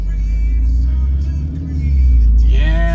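A 2008 Audi TT fitted with an aftermarket Magnaflow or Borla exhaust runs with a steady, loud, close engine rumble throughout, swelling into a rising rev near the end.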